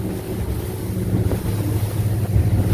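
A used 2014 Grady White 228 boat runs fast through ocean swells, a steady engine rumble under heavy wind buffeting and water rush, loud and continuous.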